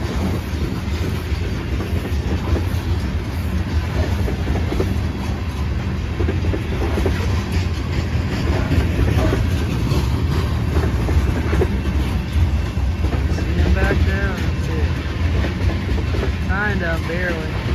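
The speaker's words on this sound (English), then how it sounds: "Big time loaded coal train." A loaded CSX coal train slows as it passes on the rails, a heavy continuous rumble with rhythmic clickety-clack of wheels over joints and a few faint metallic squeals near the end.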